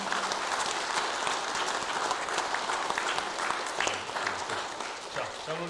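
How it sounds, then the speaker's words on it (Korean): A church congregation claps steadily and warmly for several seconds during an ordination service, with a few voices faintly mixed in. "우리 패 받으실 때 한번 박수할까요?"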